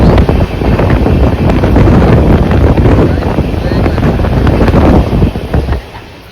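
Strong wind rushes past a fast-moving train on a trip to Kanyakumari, roaring loudly and continuously against the microphone before fading at the end.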